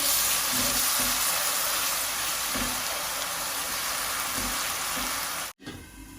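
Blended onion with dried fish frying in a pan gives a continuous close sizzle with soft periodic stirring bumps, ending in an abrupt cut and brief quieter noise.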